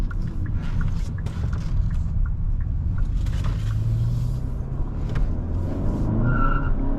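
A 2024 Kia K5 GT makes a U-turn, heard from inside the cabin. A steady low engine rumble carries road noise and a brief rising tire squeal near the end.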